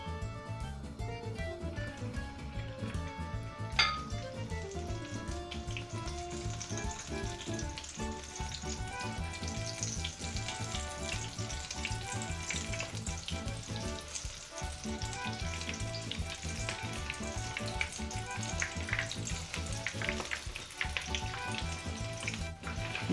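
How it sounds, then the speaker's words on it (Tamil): Cauliflower pieces frying in hot oil in a pan give a steady, dense sizzle and crackle throughout, close and continuous with occasional louder pops, with no talking. "எண்ணெய் காஞ்சது நம்ம காலிஃப்ளவர் போட்டு ஃப்ரை பண்ணிக்கலாம்."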